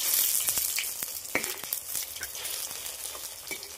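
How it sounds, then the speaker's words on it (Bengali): Pumpkin flower fritters fry in hot oil, giving a steady close sizzle with scattered crackles and pops, alone without voices. "এখন অল্প করে দিয়ে ভাজতে হবে"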